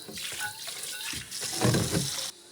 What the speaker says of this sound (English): rinse with hot water